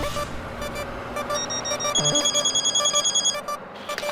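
A phone rings with a repeating electronic tone, its pulses growing louder midway, over some background clatter and music-like tones.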